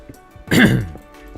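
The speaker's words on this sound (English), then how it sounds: "Still trying to clear my throat, man." A single harsh throat clearing after swallowing coffee bursts out with a short cough-like rasp, close and loud, then quiet.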